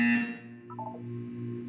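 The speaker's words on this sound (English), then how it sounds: "You will hear a buzzer." A buzzer in the Portal 2 video game sounds as a short tonal electronic beep, followed by a brief descending warble over a steady hum. The sound is fairly clear, with no speech.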